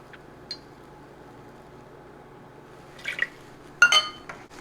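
Evaporated milk and a tablespoon of vanilla being mixed in a glass bowl: quiet background, then a few sharp clinks and liquid sloshing sounds near the end, close and moderately loud.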